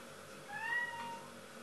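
A domestic cat gives a single faint, drawn-out meow from a short distance indoors, rising and falling over a low background hum, with no talking.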